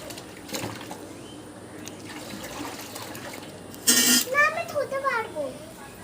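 A child washes toy dishes in a basin of water, with splashing and clinking that come in a burst near the end, while adults and someone talk throughout.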